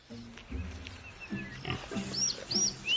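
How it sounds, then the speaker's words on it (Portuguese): Grunts and snorts from a warthog in dry African grassland, a few short low grunting bursts close by, with faint bird calls in the background. "Um javali robusto segue logo atrás."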